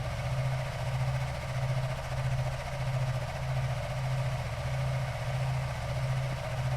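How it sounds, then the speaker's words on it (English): An EMD GP-11 diesel locomotive in the train game Railroader idles with a deep, throbbing engine drone that pulses in a slow, even rhythm, steady and fairly loud throughout, with no speech. "come on, you lovely diesel, come on. You can do it!"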